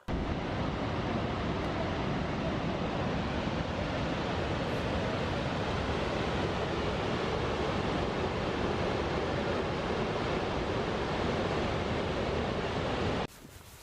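Gullfoss waterfall in Iceland roaring with rushing water, a dense, steady broadband wash at close range that holds constant for over ten seconds before cutting off abruptly.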